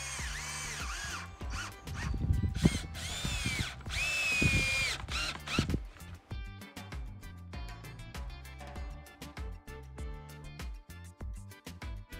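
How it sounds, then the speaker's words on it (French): A power drill drives screws into halved wooden garden fence posts, with several loud whirring bursts over the first half, then a run of lighter clicking and ratcheting knocks. "Ensuite je viens visser mes poteaux, donc je les bloque là."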